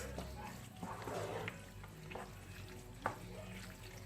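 Algerian hmiss pepper mixture stirred in a pan, faint soft sizzling with occasional scraping clinks of a utensil against the pan, quiet and close, a few sharp knocks standing out.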